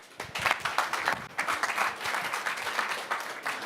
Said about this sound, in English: Big applause to you